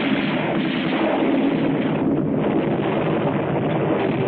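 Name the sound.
artillery and gunfire in a WWII film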